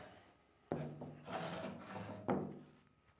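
Sanding a wooden shadow box made for displaying artwork, heard as a few rough rasping strokes with short pauses between them, close and moderately loud, and no talking.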